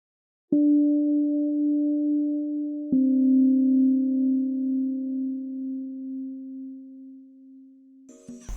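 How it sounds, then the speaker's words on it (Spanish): Soft, pure electronic tones from a pentatonic scale, generated where metro map lines cross, hold steady, one sustained note shifting to another partway through, then a brief cluster of short notes and a click at the end. "Cuando dos líneas se entrecruzan en determinados sectores, suena una nota dentro de una escala pentatónica."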